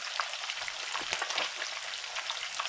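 Tilapia fillet frying in a pan with a steady, dense sizzle of hot oil, close and continuous with small crackling pops and a faint stir partway through, no talking.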